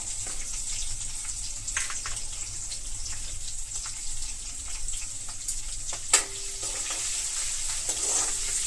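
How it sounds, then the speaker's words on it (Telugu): Tempering spices and turmeric frying in hot oil in a pan for a Malabar spinach fry, a steady close hiss and crackle running throughout with occasional sharper pops and no voices. "పోపు బాగా వేగిపోయింది."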